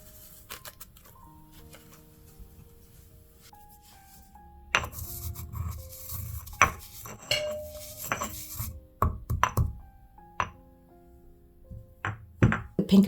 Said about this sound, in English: I'll be grinding the chai very fine so it blends smoothly into the butter